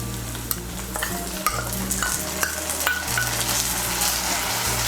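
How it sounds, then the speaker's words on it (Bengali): Ginger paste and green chilli paste frying in hot oil with onions for a Bengali rohu fish curry with potatoes, a steady close sizzle under repeated sharp clinks of a spoon stirring in the pan. "আমি এর মধ্যে দিয়ে দিচ্ছি 1 বড় চামচ আদা বাটা আর 5-6টা কাঁচা লঙ্কা বাটা"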